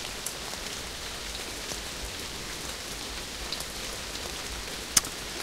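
Steady, even rain falls in the video game Amayui: Castle Meister, a continuous soft hiss of drops with no voices, broken near the end by one sharper patter or tap.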